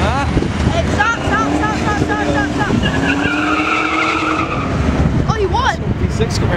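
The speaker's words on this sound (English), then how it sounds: "There goes Chad in the Camaro." A 2010 V6 Chevrolet Camaro pulls away in a drag race, its engine note rising through the gears in a loud, steady roar with a faint tire squeal, while people talk over it.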